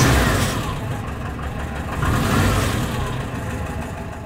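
Engine idles steadily after the carburetors were calibrated by ear, a continuous close rumble with a slight swell in the middle and no voices over it.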